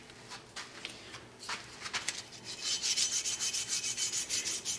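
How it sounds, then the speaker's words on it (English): Sandpaper rubs back and forth over a rough metal piece with a welded-on drill bit. The rasping strokes are close and repeated, with slow scrapes at first and then quicker, even strokes. "Just use some sandpaper for that."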